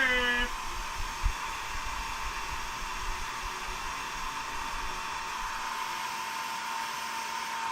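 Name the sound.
hair dryer blowing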